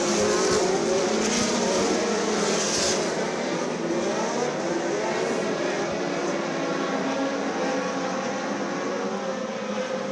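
Race cars in a heat race at Screven Motor Speedway: a continuous loud roar of several engines at full throttle, steady and unbroken, with no clear talk.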